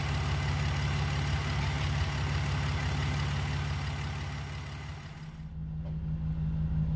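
BMW E46 engine idling steadily during a DMSO oil flush, a constant low rumble with a steady hum that dips briefly near the end before settling back, heard alone with no talk.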